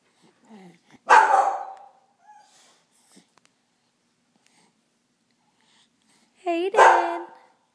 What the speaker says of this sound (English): What's Wrigley barking at?